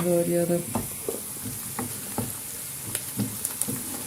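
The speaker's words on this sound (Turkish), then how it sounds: "Soğanlarımızı bir yandan karıştırıyoruz." Onions sizzle steadily in a pan while a utensil stirs, scraping and tapping at irregular intervals, with a brief voice at the start.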